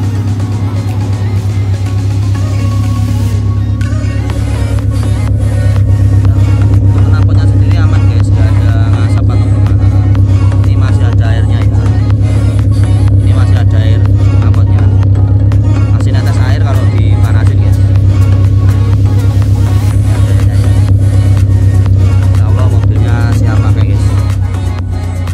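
A 1994 Honda Civic Genio sedan with manual transmission idles steadily close by, its engine and exhaust giving a loud, even rumble throughout, with a person talking over it.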